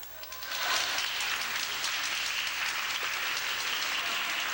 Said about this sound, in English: Maggie Hoschler, and Karen Smith brought the crowd to their feet.